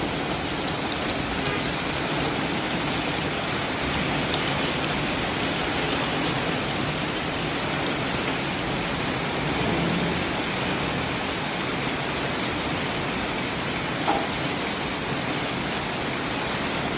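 Heavy rain pours steadily outdoors in a continuous dense hiss, loud and unbroken throughout with no voices or other sounds over it.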